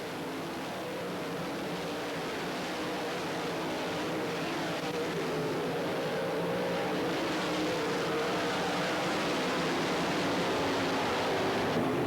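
Race cars roar continuously around a big 5/8-mile dirt oval at a 1996 central Pennsylvania event, a dense, steady engine drone from the pack that swells slightly over time, with no voices.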